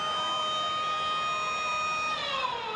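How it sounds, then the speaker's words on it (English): A sustained halftime siren wails at a Brisbane Broncos v North Queensland Cowboys rugby league pre-season match, a steady, loud, slightly wavering tone over crowd ambience that begins to fall in pitch near the end. "There's a halftime siren."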